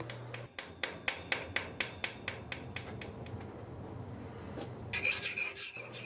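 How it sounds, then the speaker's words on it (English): A hand file trims the tenons of a forged iron Suffolk bean latch, giving a steady run of about a dozen close, evenly spaced rasping strokes over a low hum, then a brighter scraping burst near the end. "Then you assemble the pieces and use a file to trim the length of the tenons."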